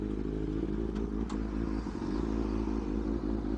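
A Benelli 600i superbike runs with a deep, steady engine rumble and layered harmonic hum, close and continuous, with a couple of brief clatters and no talk.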